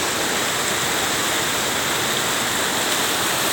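Lubuk Hijau Ceracai waterfall in South Aceh, a cold, remote forest setting: a steady, loud, broadband roar of falling water that fills the whole clip without pause and has no talk over it.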